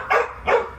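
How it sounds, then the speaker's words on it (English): A dog gives two short, sharp barks close by, spaced about a third of a second apart, beside a new fishing kayak. "don't mind my dog"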